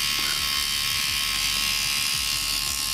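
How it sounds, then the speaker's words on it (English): A small electric hair trimmer buzzes steadily and close up, a constant high whine with faint irregular low clicks, running alone without talk for the whole stretch. "this little trimmer is quite effective compared to normal ones"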